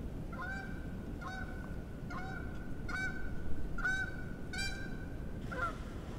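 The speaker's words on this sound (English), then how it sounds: "Here come the geese. Let's see if they come in. They're talking." Geese honk repeatedly as they fly in over a pond, a series of clear, rhythmic calls at moderate distance above quiet outdoor background.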